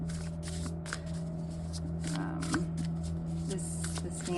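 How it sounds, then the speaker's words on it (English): Oracle cards being shuffled by hand, a close rapid riffling and flicking of card stock in bursts over a low steady hum. "Get some more oracle cards."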